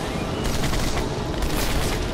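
Sustained gunfire from the video game Turning Point: Fall of Liberty, a dense, loud barrage of rapid shots filling the whole stretch with no pauses and no voices.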